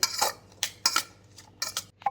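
A metal spoon scrapes and clinks against a pan in short irregular strokes, about six quick taps and scrapes, close up with no talking, mixing potatoes with red chili powder and salt.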